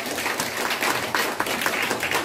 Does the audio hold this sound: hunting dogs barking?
no